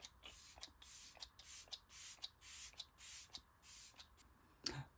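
A series of short, quiet bursts of makeup setting spray in a steady rhythm, soft hissing puffs repeated many times close by.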